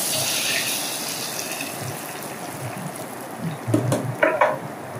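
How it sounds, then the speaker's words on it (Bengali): Hot spice tempering (phoron) sizzles as it is poured onto cooked khichuri, a steady frying hiss that flares into louder crackling bursts near the end, close by with no talking. "আমি এখন ফোড়নটা দিয়ে দিচ্ছি।"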